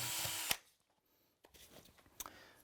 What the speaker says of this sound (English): when we come to drill tiles, we have to start it on an angle, rotate the drill like this